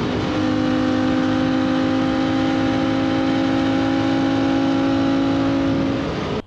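Royal Enfield GT 650 motorcycle engine running at a steady, even drone with a strong low hum, close and loud throughout, cutting off abruptly at the end.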